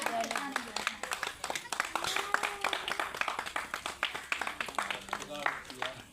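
Small children clap hands in quick uneven bursts at an anganwadi school flag hoisting for Independence Day, close and lively, mixed with singing and chanting voices throughout.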